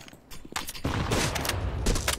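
Gunfire in the Counter-Strike: Global Offensive video game, a few sharp shots early followed by a dense rapid burst of fire, loud and close, with no talk.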